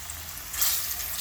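Dinner fries in a pan over a fire by a river, giving a short, steady hiss and sizzle with a faint swell partway through and no talking.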